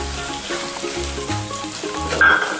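Masala with fried coconut pieces sizzling in a hot pan over high flame for a boti fry, a steady close frying hiss with occasional stirring scrapes and no talk.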